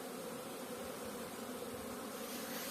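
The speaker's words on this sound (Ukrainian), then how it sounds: "Бджілки гарно вилетіли, пасіка вся гудить." Honeybees around the hives of an apiary on a warm spring day make a dense, steady buzzing hum that fills the whole clip at moderate distance, with no voices.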